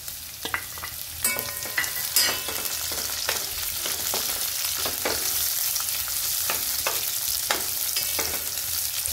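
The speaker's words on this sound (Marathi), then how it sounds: "आता आपण कांदा टाकून घेऊ।" Onion frying in a pan for a spicy kurdai bhaji, a steady hiss of sizzling oil broken by clinks and scrapes of stirring, close and continuous with no talk.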